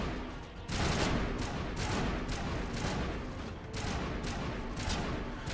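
Sustained machine gun fire in the video game Mass Effect comes as loud, dense rapid bursts with only brief gaps between volleys, close and continuous across the whole stretch.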